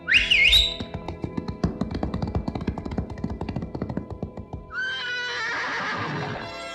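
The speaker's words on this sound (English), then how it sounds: "This is my horse, Tornado." Black stallion neighs loudly at the outset, then hooves clip-clop in a brisk, steady rhythm for several seconds, followed by a long whistling-like whinny at the end; no voices.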